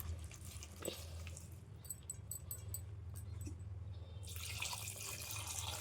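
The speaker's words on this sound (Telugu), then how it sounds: "కొన్ని వాటర్ కూడా యాడ్ చేసుకోవాలి." Water is added to tamarind pulp being squeezed by hand with salt in a home kitchen for tamarind pulusu, a soft, faint wet splashing and trickling over a steady low hum.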